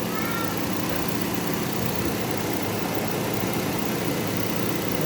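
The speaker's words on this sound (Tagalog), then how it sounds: "medyo may na tong auxiliary fan motor mo" An auxiliary radiator fan motor on a Nissan Almera runs with a steady whirring hum, heard close and continuous with no talk.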